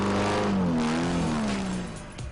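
A rally car engine on a dirt rally stage, loud and close, with a rising and falling rev pitch that sweeps up and then eases off as it fades slightly at the end.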